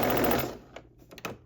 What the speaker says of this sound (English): stitch a 1/2 inch seam allowance all the way around